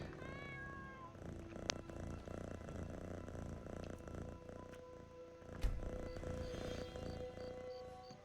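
A cat in the game Skyrim VR purrs in a low, continuous rumble close by, with a short meow early on and faint game ambience around it.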